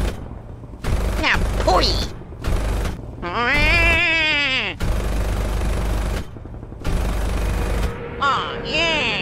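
Machine-gun bursts in a WWII aerial dogfight over Dunkirk, Luftwaffe fighter against opponent, staged as an audio drama; loud broadband bursts alternate with whining engine tones and dive sounds, with voices talking in between.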